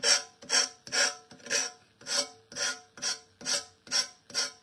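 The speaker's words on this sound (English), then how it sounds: "let me grab my little sander" Small hand sander rasping over a coffee can in about ten even back-and-forth strokes, a rhythmic gritty scrubbing, close and clear, no talking.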